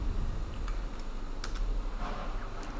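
Typing on a computer keyboard, a few sparse, light key clicks at moderate distance over a steady low background hum.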